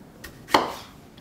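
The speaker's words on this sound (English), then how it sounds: "Just chopping it into quarters is fine for the blender." A kitchen knife cuts through a large tomato on a board, a faint tap followed by one sharp, close chop with a brief thud.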